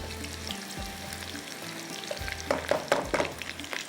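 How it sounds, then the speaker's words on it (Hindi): Onion and round chillies fry for a street-style tarka, a soft steady sizzle that swells louder and crackles with stirring toward the end. "इसके साथ ही फ्राई कर रही हूँ, प्याज और गोल मिर्चें।"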